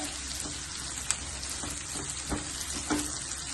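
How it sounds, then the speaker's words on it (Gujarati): Ginger and green chilli paste sizzles in hot oil for a batch of corn chevda, a close, crackling fry broken by a few light stirring taps. "અદરક અને લીલા મરચાંની પેસ્ટ નાખીશું."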